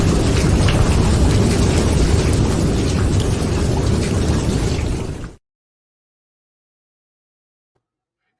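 Steady rain sound effect playing as an outro, a dense even hiss with low rumble that stays loud for about five seconds, then cuts off abruptly to silence.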